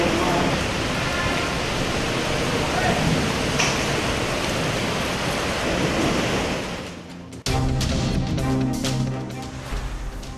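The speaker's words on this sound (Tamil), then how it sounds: "சென்னை உள்ளிட்ட பல இடங்களில் பலத்த காற்றுடன் கோடை மழை." Summer rain driven by strong wind in Chennai, Tamil Nadu, roars as a loud, dense, unbroken wash, then shifts abruptly to a slightly different gusty downpour near the end.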